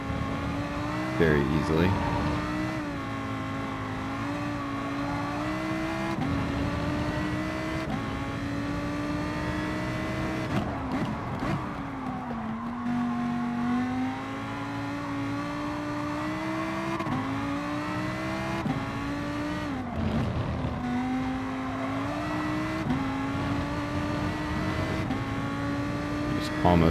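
A simulated race car in Gran Turismo, driven with a Logitech G923 Trueforce wheel, brakes hard while its engine note steps down through repeated downshifts from sixth to second gear, with someone talking over it.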